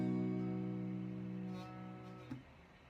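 An acoustic guitar chord strummed with the first string left out, ringing as one sustained, warm chord that slowly decays, with a faint touch of string noise near the end.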